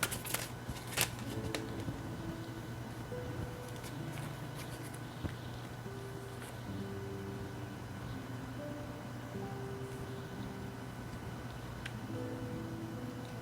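Tarot cards shuffled and handled in a quiet room, a continuous soft papery riffling and sliding with occasional light taps, close and steady throughout.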